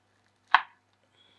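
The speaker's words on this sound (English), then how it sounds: "we're just gonna cut in half and use a spoon to remove all the seeds" A single sharp knife chop into a pumpkin, close and crisp, followed by near silence.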